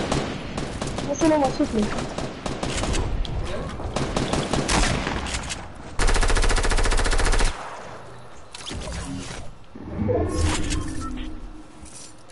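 Gunfire in Fortnite: rapid bursts of automatic weapon fire crackle repeatedly, with one long sustained volley, while people talk in French over the shooting.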